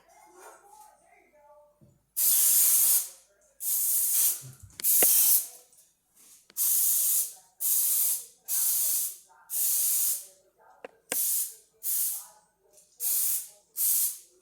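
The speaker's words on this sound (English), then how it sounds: "we're going to spray them with a spray to keep the popovers from sticking" Repeated short hissing bursts of aerosol cooking spray onto popover baking tins, about a dozen quick sprays in an uneven rhythm, loud and close.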